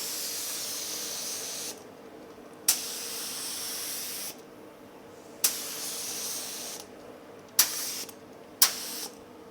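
Spray gun laying a second clear coat on the door of a 1950 Chevy truck: several long, steady hissing bursts separated by short pauses, each ending in a sharp click, close and loud with no talk.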